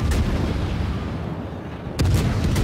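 Heavy naval gun salvos from the British cruiser Minotaur in World of Warships: a loud booming report at the start, a sustained rumbling roll, then another sharp volley near the end, with no voices.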